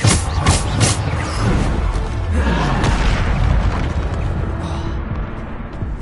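A Bombarda explosive spell goes off in Hogwarts Legacy, giving heavy booming bursts with a loud opening blast, then a sustained rumbling roar that stays strong throughout.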